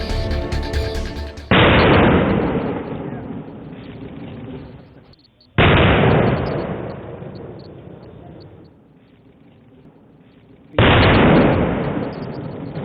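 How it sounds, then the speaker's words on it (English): Grenades detonated outdoors in Bastar, India: three loud, heavy blasts spaced several seconds apart, each a sudden boom followed by a long rumbling decay, close and powerful. "The grenades were detonated right before our eyes."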